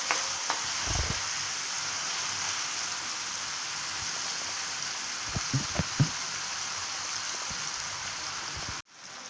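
Tomatoes sautéing in a pan for moong curry, a steady close sizzle and hiss with a few soft spatula scrapes and knocks, ending with an abrupt stop.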